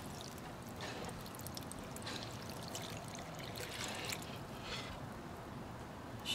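Water is poured into the fast-draining soil of a potted Pilea plant outdoors, giving a soft, fairly quiet, continuous trickle and splash with no talking.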